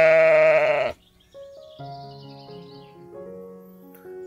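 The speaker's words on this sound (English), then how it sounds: "S for sheep." A single sheep gives one loud wavering bleat lasting about a second, followed by a gentle children's song melody playing softly behind it.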